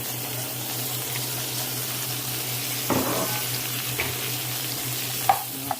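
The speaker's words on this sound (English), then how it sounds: "And we're gonna throw our onions and peppers in." Onions and peppers frying in oil over a gas flame set to medium, a steady close sizzle over a low hum, with a brief burst of crackling as they hit the pan and a few light knocks.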